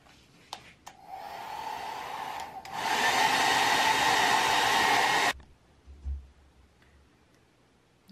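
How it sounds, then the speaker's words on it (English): A hair dryer-style heat gun whirs on near the end of a wider plastic tube to soften it, a steady loud blowing hum that cuts off abruptly, framed by a few clicks and handling knocks. "Now we're going to heat up each end of the wider diameter tube to make it a little more flexible"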